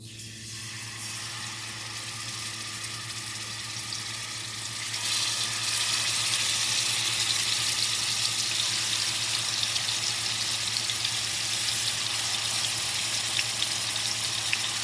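Tofu sizzles in hot olive oil in a pan, a steady frying hiss that jumps louder about a third of the way through and keeps crackling evenly, with a low kitchen hum underneath.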